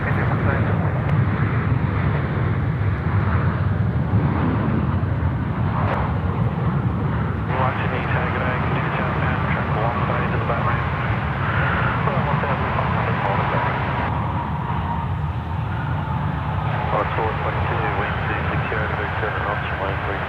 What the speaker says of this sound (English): Oh, Latam just touching down.